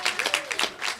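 Audience applause rises in a short burst of scattered claps for the mayor of Los Angeles at the 600 San Pedro ribbon-cutting event, with brief uneven peaks.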